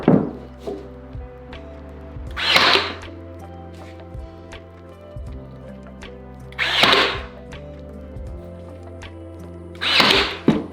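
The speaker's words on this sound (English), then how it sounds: "I start by nailing the front to the sides." A kookaburra bird box is assembled by hand, with the wooden front nailed to the sides. Three bursts of sharp, hard knocks come at spaced intervals over a steady tonal background drone.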